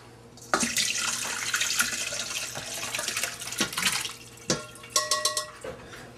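Cooking liquid from braised beef short ribs strained through a sieve, a steady close pour and trickle of liquid with dripping and a few light knocks toward the end.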